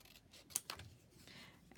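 Paper trimmed with scissors for a journal pocket: a few sharp, quiet snips close by, ending in a louder crisp cut.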